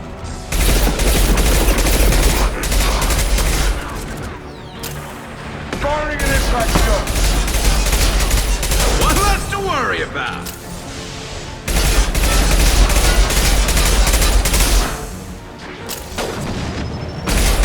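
Sustained gunfire and booming weapon blasts in the sci-fi shooter game Mass Effect 2, with a mercenary attack on a base, dense and loud bursts continuing in waves with brief lulls, voices mixed in.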